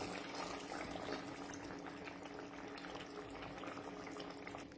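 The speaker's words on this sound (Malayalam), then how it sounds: "അല്പം തേങ്ങാപ്പാൽ ഒഴിച്ചു കൊടുക്കുക" Fresh coconut milk going into a simmering fish curry, a steady bubbling, pouring wash of liquid that holds at an even level throughout.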